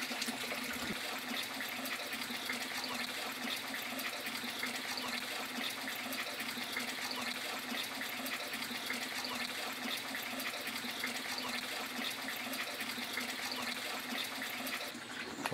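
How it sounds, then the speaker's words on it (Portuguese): Mountain water pours steadily through an overflow pipe in a rural backyard, a continuous close gushing rush that stays even throughout. "Então é uma água que vai caindo aqui, né?"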